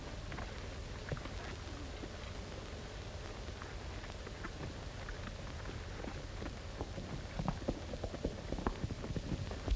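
Horse hooves clip-clop faintly under a low outdoor hiss in an old Western film, the irregular hoofbeats growing a bit louder and more frequent toward the end.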